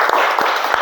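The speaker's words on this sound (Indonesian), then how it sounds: "Tepuk tangan untuk kelompok 2." Children in a Sunday school class clapping for a group after its role-play, a short, loose patter of hands with a few sharper claps, close by with no talk over it.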